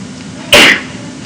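A single sharp sneeze in a classroom, loud and close, bursting out briefly over a quiet room background.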